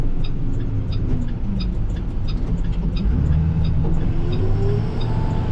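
A snow plow truck pulls onto a lightly coated winter road, its engine a steady, close rumble throughout with a continuous low drone and no voices.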